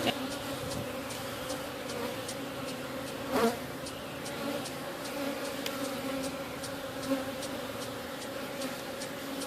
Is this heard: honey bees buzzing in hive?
yes